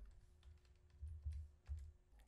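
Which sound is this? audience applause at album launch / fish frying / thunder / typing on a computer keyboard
typing on a computer keyboard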